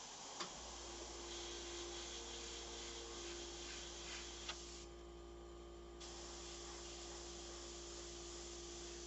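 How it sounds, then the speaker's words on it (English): An airbrush lightly spraying paint onto a portrait, a steady soft hiss over a low compressor hum, with a couple of faint clicks and a brief change in the hiss midway; no voices. "So I'm just going to just start spraying in ever so lightly the jacket."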